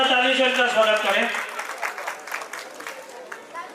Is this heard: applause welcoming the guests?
yes